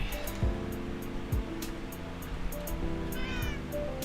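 Cats meow in a Minecraft hardcore world, a few short faint mews, one clearer near the end, over a steady wash of water and game ambience, with no talking.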